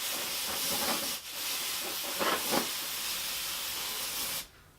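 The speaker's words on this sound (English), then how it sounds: "I'm just gonna give it a little quick spray." A steady hiss of aerosol spray paint runs for several seconds, with a couple of brief bursts and a short pause, then cuts off abruptly, while painting a JConcepts Chevy body for a Traxxas Slash 2WD RC truck.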